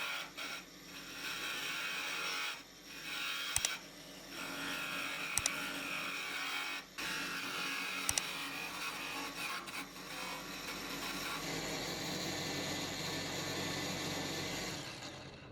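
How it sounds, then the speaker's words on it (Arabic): A homemade lathe driven by an angle grinder turns a piece of wood, giving a steady whirring, grinding drone with a few sharp clicks and brief pauses, close up, with no talk. "نبدأ بقى ناكل ونخرط الشكل اللي احنا عايزينه"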